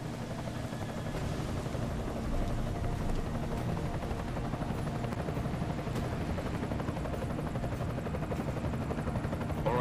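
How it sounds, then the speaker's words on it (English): Enemy helicopter in the video game Deus Ex: Mankind Divided, a steady loud rotor drone with engine hum holding throughout, thick and continuous without breaks. "Enemy helo sighted."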